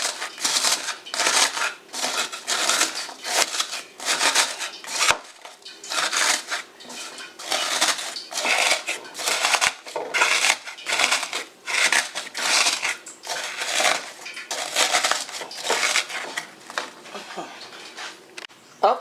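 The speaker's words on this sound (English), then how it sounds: "So you guys see how I crunch the chips up." Flamin' Hot Cheetos chips are crushed with a spoon for coating fried chicken, making a dense run of crunchy, crackling bursts, close and loud, continuing rhythmically throughout.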